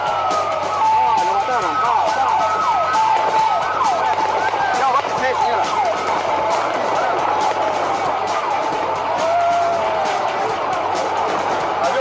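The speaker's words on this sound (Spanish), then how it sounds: "Varias ambulancias y patrulleros se acercan a sirena abierta, a toda velocidad" Ambulance and police car sirens wail continuously as the vehicles approach at speed during the 1994 El Filtro massacre, their sweeping tones rising and falling loudly under a voice talking.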